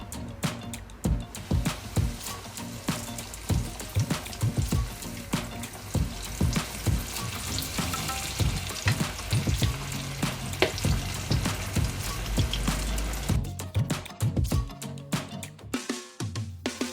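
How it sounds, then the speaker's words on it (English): Chicken leg pieces fry in hot oil with a dense, continuous crackling sizzle that stays close and loud. Scattered pops and occasional stirring clatter run through it, with no talk. "Now my oil is hot enough. I'm going to start frying. First, let me add the leg piece."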